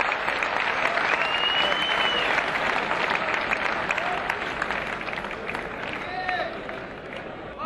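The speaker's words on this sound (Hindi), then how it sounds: "इस्तकबाल कीजिए मुकम्मल तालियों के साथ" A dense, sustained wave of audience applause greets the poet Dr. Kumar Vishwas at a mehfil (poetry gathering). It stays loud and steady throughout, with crowd noise mixed in, and eases off slightly toward the end.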